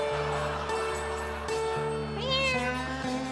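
A comedian imitates a cat meowing, drawn-out nasal meows that rise and bend in pitch over a steady tonal background, close and clear with no other talk.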